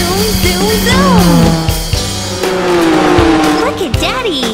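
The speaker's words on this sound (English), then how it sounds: "You rev your engines, fill your fuel, and then vroom vroom! Your tires screech and you take off!" A cartoon car engine revs loudly while tires screech, with swooping whines and skids under sung and spoken children's nursery rhyme vocals.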